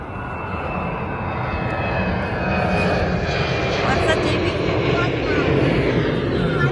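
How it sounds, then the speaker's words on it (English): A large airliner passes overhead, its jet engine roar a steady loud wash that swells slightly and holds throughout the whole stretch. "Big airplane."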